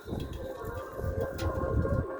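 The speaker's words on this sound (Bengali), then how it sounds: "এটা হচ্ছে পিলাঙ্কা পায়রা" A Pilanka pigeon gives a short run of low, throaty coos close by, with steady background hum and a few faint knocks.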